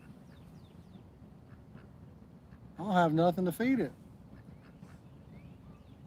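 A duck at a park fishing spot gives a loud, close burst of three or four nasal quacks in quick succession midway through, while someone talks nearby over steady outdoor background noise.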